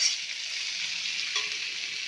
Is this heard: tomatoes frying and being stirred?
yes